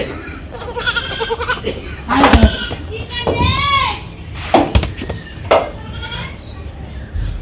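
Goats bleating nearby in a Bangladeshi village at dusk, several wavering, quavering cries in quick succession over outdoor background noise and occasional voices.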